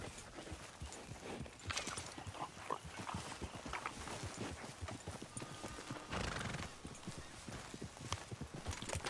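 A horse in Red Dead Redemption 2 gives a whinny amid a steady clip-clop of hooves, set against busy game ambience at moderate level.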